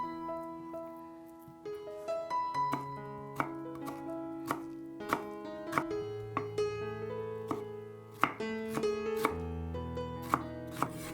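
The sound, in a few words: knife chopping bamboo shoots into small cubes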